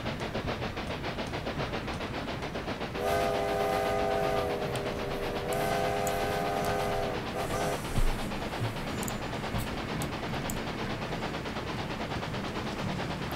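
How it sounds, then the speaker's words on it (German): Train running on a railway in the video game Railway Empire 2, a steady rolling rumble with a sustained two-tone whistle blast near the middle, a brief clunk later, no talk. "Da kommt ein Zug an."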